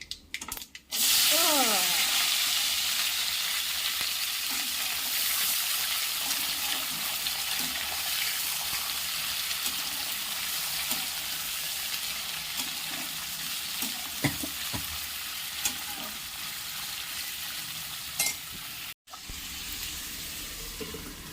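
Vegetable sabzi sizzling and frying in a kadhai at home, a continuous loud hiss with occasional scraping stirs and clinks, one sharp clatter after the start and a brief dropout near the end.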